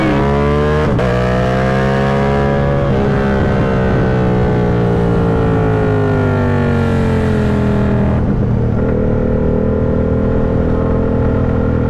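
A motorcycle engine revs hard and loud during a wheelie on twisty backroads, its pitch climbing and dropping through several sweeps close up, with wind rushing past.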